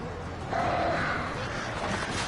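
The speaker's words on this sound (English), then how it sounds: "Oh shit, birds." A flock of crows caws harshly in the Alan Wake video game, a few rough calls layered over a steady eerie ambient drone, with no voices during the moment.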